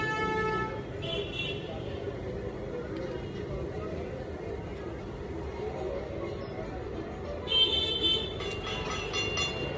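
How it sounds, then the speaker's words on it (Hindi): Car horns honk in bursts, short and sustained, over a steady road rumble and distant traffic, with a voice talking near the start. "यहाँ पे ना रोड है, तो यहाँ पे हॉर्न वगैरह की आवाज आएगी"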